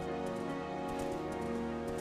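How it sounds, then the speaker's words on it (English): Steady rain patter in Minecraft, a soft continuous hiss of drops over a low droning background, with no talking. "Oh no, it's raining, Pepe, so they're gonna run away."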